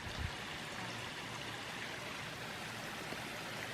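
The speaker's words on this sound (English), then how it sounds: "Not much water in the creek today." Water trickles and burbles steadily nearby in a low creek in Sitka, Alaska, a continuous gentle wash of shallow flowing water with no voices.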